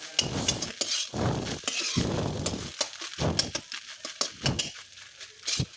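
Rice being stirred with salt and lemon in a metal vessel, a series of close scraping and clinking strokes in an irregular rhythm with brief pauses between them.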